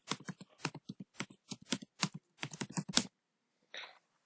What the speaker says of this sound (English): I'll type inventory list,